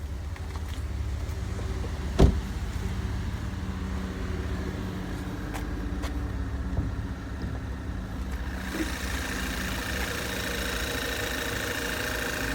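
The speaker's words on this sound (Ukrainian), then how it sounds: "Двигун працює рівненько." A Volkswagen car engine idling smoothly and evenly, a steady low hum throughout with a single brief click near the start.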